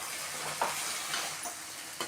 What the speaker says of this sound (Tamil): புளியை போட்டுட்டு நல்லா இது மாதிரி பாருங்கள் நல்லா வதக்கிக்கலாம்.